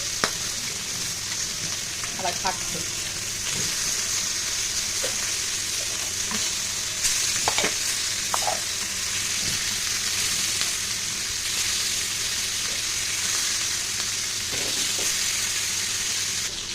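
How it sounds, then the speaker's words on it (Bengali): Small hilsa fish rubbed with salt and turmeric fry in a karahi with a loud, continuous close sizzle, broken by scattered spatter pops and a few clinks; a voice speaks briefly. "এই দেখো মাছটা ভাজা বসিয়ে দিয়েছি"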